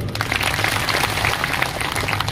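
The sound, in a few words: audience applause for the mandal presidents at a rally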